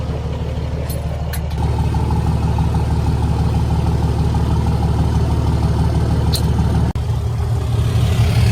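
A third-generation diesel pickup truck's engine runs after refuelling, a close, steady idling rumble that continues throughout, with a brief dip near the end.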